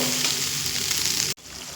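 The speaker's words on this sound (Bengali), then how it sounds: "সেই মশলাটা তিন থেকে চার মিনিট আমি কষিয়ে নেব" Spice paste with a little turmeric and water sautéing in a pan, a dense close sizzle with stirring that cuts off abruptly near the end before a softer sizzle resumes.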